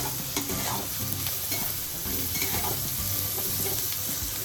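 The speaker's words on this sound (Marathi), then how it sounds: "आता आपण कांद्यामध्ये थोडीशी कोथिंबीर परतून घेणार की जेणेकरून स्वाद चांगला येतो कोथिंबीरीचा" Chopped coriander and onions sauté in a pan for an Indian boiled-egg masala curry, a close, steady sizzle and hiss with scraping stirs of a spatula throughout, no talking.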